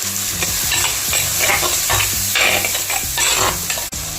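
Loud close sizzling of onions and green chillies sautéing for a Kerala-style tilapia fish curry, punctuated by a quick series of spoon scrapes and clinks as the pan is stirred; nobody speaks.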